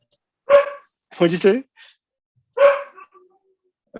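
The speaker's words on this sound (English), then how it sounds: "Sorry, my dog's barking." A dog barks a few times, close by, with a person briefly speaking between the barks.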